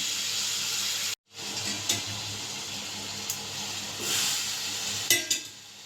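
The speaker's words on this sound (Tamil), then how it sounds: "மசாலாவோட இப்போ காலிஃப்ளவர் சேர்த்துக்கலாம்" Cauliflower tipped into a pan of frying masala gives a steady, fairly quiet sizzle and hiss, broken by a brief gap and a few small clinks and stirring scrapes.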